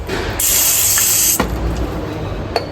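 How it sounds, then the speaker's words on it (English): A single long hiss of disc brake cleaner sprayed into a brake caliper housing, lasting about a second, close up, followed by a faint clink and quiet room noise. "use any good disc brake cleaner and a little spray on the"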